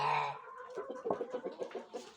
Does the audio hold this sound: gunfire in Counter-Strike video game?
no